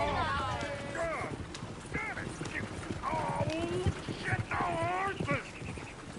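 Steady clip-clop of horses trotting in a PS4 video game continues throughout, with voices talking over it and a busy background.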